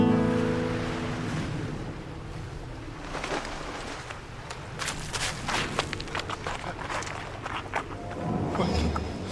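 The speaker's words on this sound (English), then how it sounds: "the harumphing sound of the waves started to sound like a jet" Ocean waves roll and crash in a continuous rushing surge, with wind-like noise and a deep rumbling undertone.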